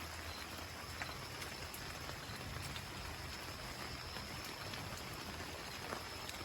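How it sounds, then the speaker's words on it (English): Steady, soft rain patters continuously on an SUV tent, with scattered faint drips, quiet and unbroken throughout. "It's still raining."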